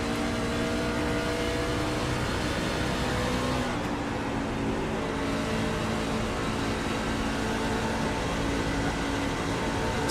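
A race car engine revs and climbs through the RPMs on the Dover Motor Speedway oval, a steady, loud mechanical drone that holds throughout with a slight shift partway, no talking.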